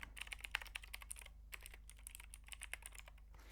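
Rapid keystrokes on a computer keyboard as a password is entered, a quiet, irregular patter of close clicks over a low steady hum with no talk.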